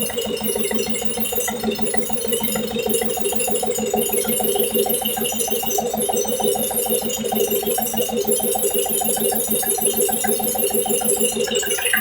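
Diesel engine idling at about 780 rpm with no load on a laboratory test bed, a steady close rhythmic knocking throb with mechanical clatter, continuous and loud throughout.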